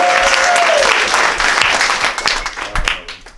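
Audience applause with scattered cheers at a Juneteenth poetry reading, loud and dense at first, then thinning into lighter claps.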